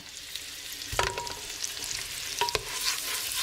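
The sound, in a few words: onion frying in hot oil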